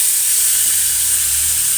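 Boiled chow mein noodles fry in hot oil with a loud, steady, close sizzling hiss that runs without break and has no talking over it.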